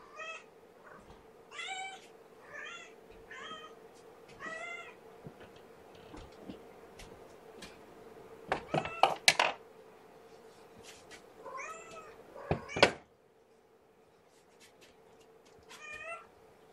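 Kittens meow in a steady string of short, high cries, close by, with a couple of louder rustling bumps and a low constant hum beneath; no talking.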